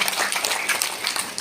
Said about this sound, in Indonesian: tepuk tangan buat Pak LK.